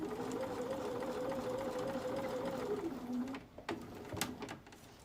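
A sewing machine stitches across the top of a placemat tote bag, a close, steady whir that eases off, followed by a few clicks and knocks.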